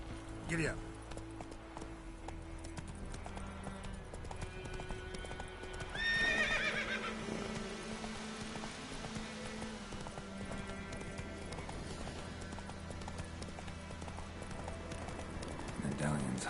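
Horses gallop in The Witcher 3: Wild Hunt, with steady clip-clop hoofbeats and a clear neigh partway through, set against a soft game score and ambience.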